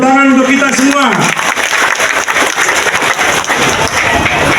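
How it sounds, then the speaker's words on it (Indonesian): A crowd at an outdoor campaign rally for a Bali gubernatorial candidate pair bursts into applause and cheering right after a voice trails off, the clapping loud and sustained under scattered shouts. "Tepuk tangan untuk kita semua."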